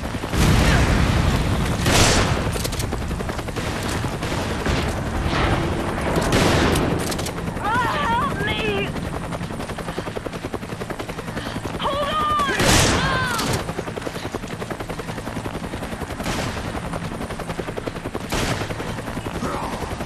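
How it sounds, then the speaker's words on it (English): Bursts of rapid gunfire and booms fill a Resident Evil game match, with repeated shots and distant explosions over a constant din, and people speaking. "I can hear gunfire."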